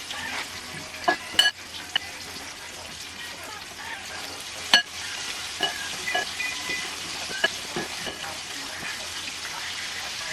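Chicken fries in hot oil with a continuous close sizzle and crackle, punctuated by occasional sharper pops and clatters of stirring, with no talking.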